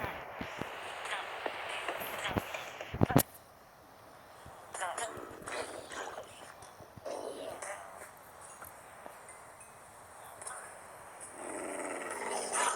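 In a video game with zombie attacks and villagers, a dog or wolf growls in rough bursts alongside game noises, with voices talking over it.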